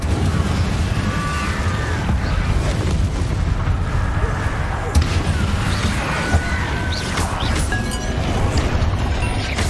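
The Incendio fire spell in Hogwarts Legacy erupts in a sustained, roaring blast with crackling bursts and deep rumbling impacts, loud and continuous throughout.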